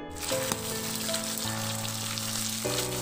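Pork liempo simmers in a pan of reducing Sprite-based sauce, giving a dense, even sizzle for a few seconds, with steady background music playing over it and no talk.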